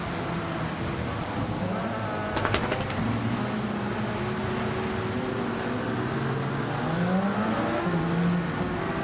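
Race car engine from the Gran Turismo 7 racing game, a steady droning engine note with shifting pitch sweeps as the car accelerates, running continuously at moderate loudness with no talk over it.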